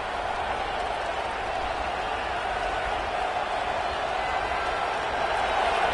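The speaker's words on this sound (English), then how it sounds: "Decibels rising as the crowd gets behind this defense on third down" A football stadium crowd roars steadily behind the defense on third down, a dense far-off wash of cheering that holds level and rises slightly at the end, with no clear single voices.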